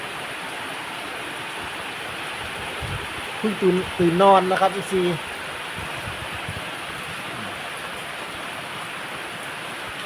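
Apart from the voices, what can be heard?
rain falling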